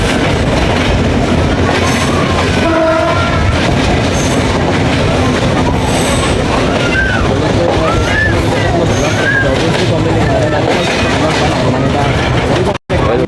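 A train running through Daulatpur station in Bangladesh without stopping, heard from on board as a steady loud rumble with rail clatter, brief squeals and a short horn-like tone, continuous throughout.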